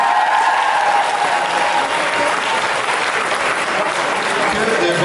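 An audience at a poetry night applauds, a dense and continuous roar of clapping that stays loud and steady from start to finish with no break.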